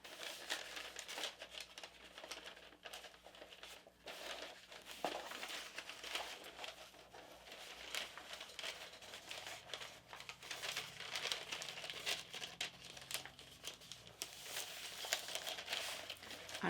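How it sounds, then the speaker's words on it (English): Paper is folded and crinkled by hand for decoupage on a tin can planter, giving close, quiet, irregular rustles and crackles that continue throughout. "folding my paper to decide how I'm going to trim it"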